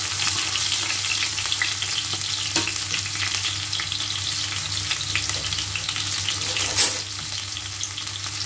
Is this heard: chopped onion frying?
yes